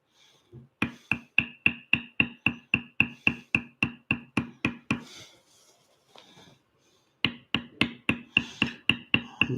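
A mallet strikes a beveler on tooled leather in a fast, even run of crisp, close taps, about a dozen and a half in a row, then a short pause with faint rustling before the tapping resumes.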